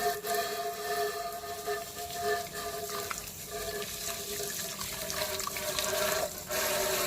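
Water runs and splashes steadily as a rusty vessel is washed, a close, continuous wash of flow with no voices.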